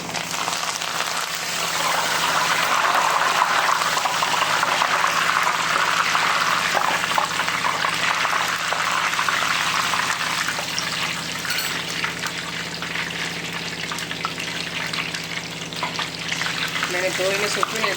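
Curry leaves sizzle in hot oil in a home kitchen while chevda snack mix is being made, a steady crackling hiss that runs loud and unbroken throughout.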